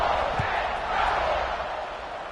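A stadium crowd in the College Football 26 video game roars steadily before a late-game kickoff, a broad, continuous wash of cheering that holds at an even loudness throughout.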